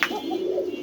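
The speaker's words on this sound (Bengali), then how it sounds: "ঠিক অনেক কবুতরই আছে, দেখাচ্ছি" A single short, soft coo from a pigeon at a pigeon farm, close and clear with little else around it.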